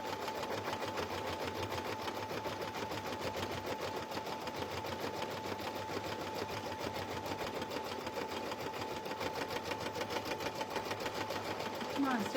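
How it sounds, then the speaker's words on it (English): An embroidery sewing machine stitching an in-the-hoop slap bracelet runs with a steady, rapid mechanical chatter and a constant motor whine, close and continuous throughout, with no voices over it. "Come on, stitch faster."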